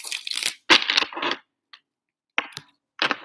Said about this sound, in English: Shuffling for singles. Shuffling for singles.